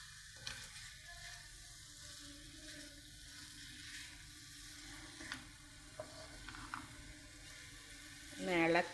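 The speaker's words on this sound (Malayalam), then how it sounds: "അപ്പോൾ നമ്മുടെ ചിക്കൻ എടുത്ത് അതിനകത്ത് ചേർക്കുക." Fried chicken goes into sizzling masala in a pan for chicken kondattam, a soft steady frying hiss with small stirring clatters, faint and low, under occasional talk.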